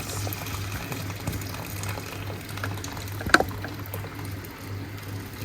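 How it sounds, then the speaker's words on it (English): Boiling water is poured over tamarind in a bowl to infuse, giving a soft, low-level liquid splashing and gurgling with a steady hum beneath and a sharper clink partway through. "Then we go in with boiling water. You really need to add boiling water to it."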